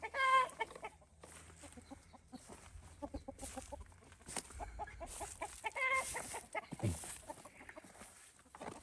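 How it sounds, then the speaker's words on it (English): Hens cluck in short bursts with a big rooster calling now and then, fairly faint and a little distant, over quiet outdoor background noise. "Two ducks, a rooster, and a couple hens."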